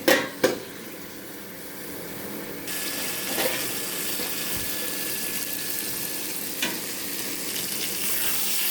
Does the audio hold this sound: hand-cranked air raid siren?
no